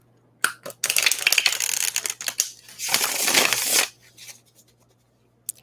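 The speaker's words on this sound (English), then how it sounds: "I'm shuffling these off camera" Tarot cards being shuffled off camera, close by: a run of dry, crisp riffling bursts with short pauses, followed by quiet slides and a final tap.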